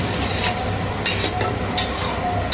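Rice and salt being stirred in a cooking pot, a steady scraping and rustling stir with faint sizzling and occasional clinks of the spoon against the pot, close and continuous with no talking.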